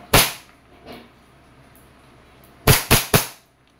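A WE airsoft 1911 pistol fires with sharp, close cracks: one loud shot, a fainter pop, then a quick burst of three shots near the end.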